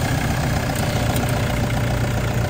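A Toyota pickup truck's diesel engine idles steadily with a low, rough rumble and faint knocking, close by and unbroken; the exhaust pipe has its tip cut off.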